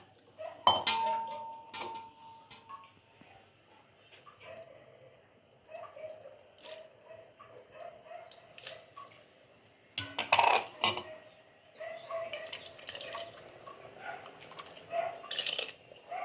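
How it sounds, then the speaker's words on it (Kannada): Water is poured and leftovers are scraped from steel bowls into a pressure cooker, with scattered metallic clinks, scrapes and trickling splashes, quiet and close, in irregular bursts. "ಇವಾಗ ಇದಕ್ಕೆಲ್ಲ ನೀರು ಹಾಕ್ಕೊಂಡು ಉಳ್ದಿದ್ದಂಥ ಎಲ್ಲನೂ ಒಂದು ಸ್ವಲ್ಪನೂ ಬಿಡೋದು ಬೇಡ, ಬಟ್ಲುಗಳಲ್ಲಿ ಎಲ್ಲ ಬಳ್ದು ಕುಕ್ಕರ್ನಲ್ಲಿ ಹಾಕ್ಕೊಂಬಿಡೋಣ"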